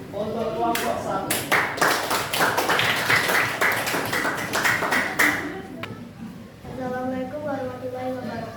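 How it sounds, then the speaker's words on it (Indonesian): Classroom audience clapping for a presenting student group, a dense burst of applause lasting a few seconds, with voices talking before and after it. "Tepuk tangan untuk kelompok 1"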